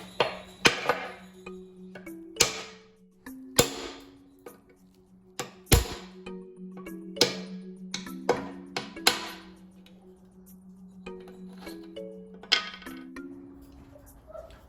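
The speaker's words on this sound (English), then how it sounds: "I'm just using a chisel because it's what I have, and this little hammer here." A small hammer strikes a chisel while removing a scooter housing, giving sharp metallic clinks and taps repeated at irregular intervals over a low steady hum, close and fairly loud.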